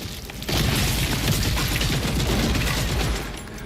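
Rapid gunfire with muzzle flashes from the Gears of War video game rattles in a dense, loud barrage for about two and a half seconds before trailing off.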